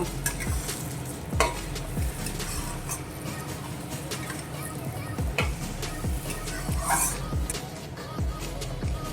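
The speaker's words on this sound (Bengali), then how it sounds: "কষিয়ে রাখা মশলাটা আমি চালে দিয়ে দিচ্ছি। দিয়ে আবার একটু চালের সঙ্গে মিশিয়ে নেব।" A spoon or spatula scrapes and stirs fried spice paste into rice in a pan, making repeated close scraping knocks over a soft background sizzle at an irregular rhythm.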